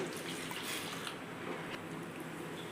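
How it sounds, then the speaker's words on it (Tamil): Milk pours into a mixing bowl along with oil and country sugar for a brownie batter, a soft continuous liquid splashing and trickling heard up close and quiet, with no talking. "ஆஃப் கப் அளவுக்கு பால் ஊற்றிக்கிறேன்"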